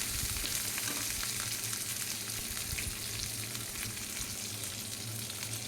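Oil sizzles and fries steadily in a pan as a tempering is cooked for cucumber chutney, a dense, continuous crackle close to the microphone with small pops throughout and no talk.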